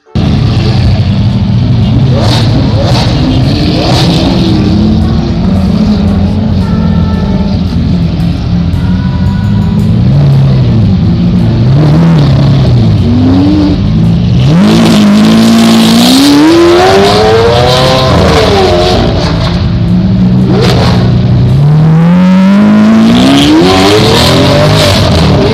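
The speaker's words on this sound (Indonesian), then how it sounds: "lihat teman-teman, ini mobil balap" A toy race car gives off a loud, continuous engine roar that revs up and down in repeated pitch sweeps, with hints of tire squeal, filling the whole stretch without any talk.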